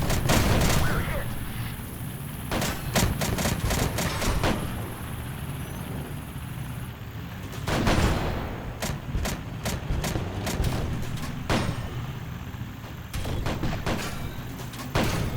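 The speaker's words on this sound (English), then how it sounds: "Getting bombarded here." Tank in a video game under heavy fire, tracks damaged: repeated loud gunfire and booming artillery impacts in irregular bursts over a constant engine rumble.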